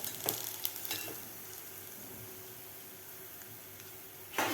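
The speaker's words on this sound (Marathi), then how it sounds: "थोडे थोडे करून आपल्याला हे पोहे तळून घ्यायचे आहेत" Corn poha fries in hot oil with a faint, steady sizzle, a few sharp crackles and stirring clinks early on and again at the very end.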